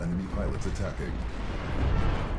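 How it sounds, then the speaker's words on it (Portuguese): Heavy, booming gunfire and blasts rumble through a Titanfall 2 multiplayer match on Xbox One, dense low thuds overlapping continuously while a player talks over the action. "Alguém tá me atirando ali, ó."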